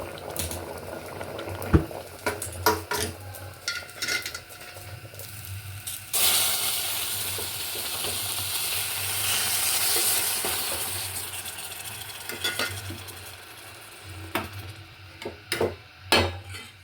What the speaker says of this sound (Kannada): ಇದಕ್ಕೆ ಒಗ್ಗರಣೆ ಕೊಟ್ಕೊಳ್ಳೋಣ.